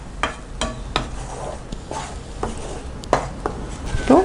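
Dates halwa mixture with ghee, cashews and cornflour stirred in a pan, with repeated sharp spatula strikes and scrapes in an uneven rhythm over a faint sizzle, close and fairly loud.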